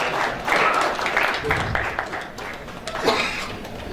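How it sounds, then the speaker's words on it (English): Applause for dealership-network finance partners at an automobile dealers' convention, a broad wash of clapping that swells and fades across the hall with voices mixed in. "Big round of applause, ladies and gentlemen."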